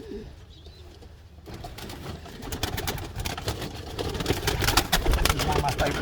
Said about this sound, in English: This is one of my favorite pigeons